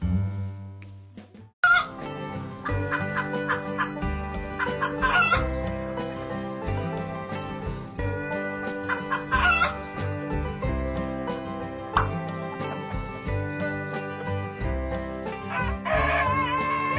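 A person imitates a chicken, with clucks and a cock-a-doodle-doo crow mixed over loud, busy, upbeat background music that continues throughout.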